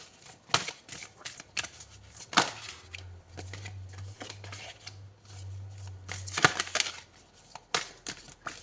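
Oracle cards are shuffled and drawn. Soft papery riffles and flicks come in bursts with brief pauses, quiet and close, and a faint low hum sits underneath.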